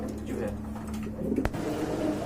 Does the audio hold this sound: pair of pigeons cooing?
yes